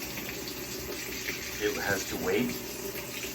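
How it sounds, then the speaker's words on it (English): A Maytag Bravos washer fills with water, a steady rushing flow running under a man's speech. "it has to fill to a certain point before it will allow itself"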